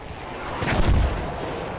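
A burst of heavy gunfire and a booming artillery-like blast ring out at close range in Battlefield 1 during combat.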